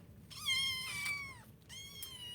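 Several cats meow in a shelter's cat quarters, two long rising-and-falling calls close by, one after another with a short pause between, over a low room hum.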